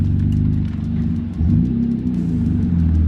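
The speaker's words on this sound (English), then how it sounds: "That's his car dragging on the ground." A video game car scrapes along the ground with its body dragging, a loud continuous low grinding rumble with an engine drone and slight pitch shifts.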